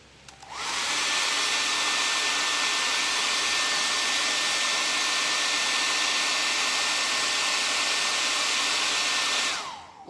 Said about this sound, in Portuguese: Então, secador.